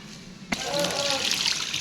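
Tap water runs while food is rinsed for a Thai bamboo shoot curry, a sudden steady splashing stream that starts abruptly and continues close to the mic, with a faint voice in the background.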